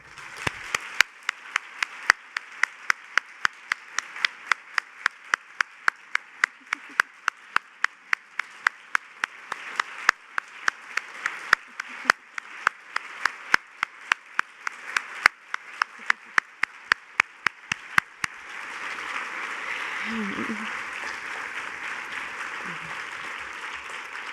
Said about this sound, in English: Please join me in honoring Jim with a round of applause